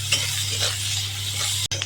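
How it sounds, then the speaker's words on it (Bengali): Sliced onions with salt frying in hot oil in a wok, giving a steady close sizzling hiss with a faint clink near the end. "পেঁয়াজ ভেজে নেব।"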